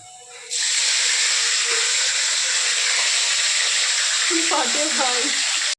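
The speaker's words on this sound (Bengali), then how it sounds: "আমার তেলটা গরম হয়ে গেছে, তেলের মধ্যে এগুলো ফোড়ন দেবো।" Whole spices tossed into hot oil for tempering burst into a sudden loud hissing sizzle that holds steady, with a faint voice briefly under it near the end.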